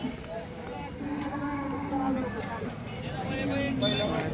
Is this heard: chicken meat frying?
no